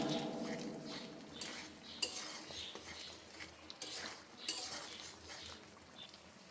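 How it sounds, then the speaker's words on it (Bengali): Boiled potatoes stirred and sautéed in a pan on low heat, giving soft scraping and utensil clinks against metal over a low background hiss, close and fairly quiet. "লো হিটে দিয়ে আলুটা বেশ সময় নিয়ে কষাতে হবে"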